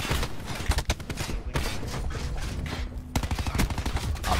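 Rapid, dense gunfire in Call of Duty: Black Ops 4 beta multiplayer, with overlapping bursts and shots that continue steadily throughout at moderate volume.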